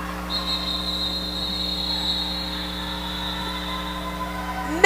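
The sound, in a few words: referee whistles calling off a roller derby jam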